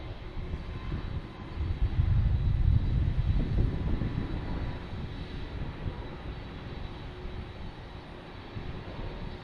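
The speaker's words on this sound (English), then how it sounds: "We do have an American Airlines taking off, heading to Miami." An American Airlines jet bound for Miami takes off from runway 4 right at Boston Logan, its engine roar swelling loud and close over the first few seconds and then easing into a steady, fading rumble.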